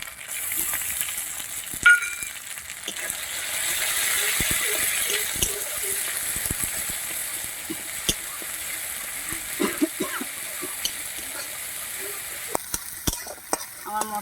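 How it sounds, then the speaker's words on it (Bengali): Ground white cumin paste sizzles and fries steadily in a pan for a fish curry, with a spoon scraping and stirring through it in irregular clicks and knocks, fairly close and continuous. "আমার মশলাটা ভালো করে ভাজা হয়ে গেছে"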